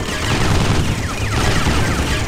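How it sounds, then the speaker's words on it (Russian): Guns blasting continuously in the Jets'n'Guns Gold shooter video game, a loud, dense and unbroken barrage of rapid fire and explosions. "Вот еще чем хороши вот эти пушки, стреляющие во все стороны."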